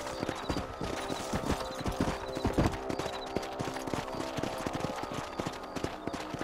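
Horse hooves clip-clopping at a steady riding rhythm in Red Dead Redemption, close and continuous for several seconds over a background of game ambience.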